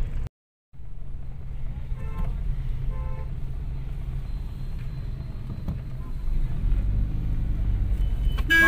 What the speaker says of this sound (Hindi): बहुत ट्रैफिक है यहाँ पे अभी